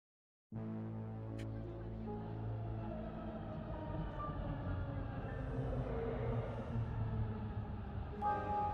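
A train in the video game Lacuna rumbles steadily along the rails after a sudden start, a continuous low hum with faint higher whines, fairly quiet and without talk.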